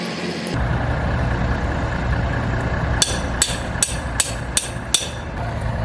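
Six sharp metallic clanks of a pipe hammering on stuck injectors of locomotive 8954, struck in a quick, even rhythm over a low, rumbling idling engine.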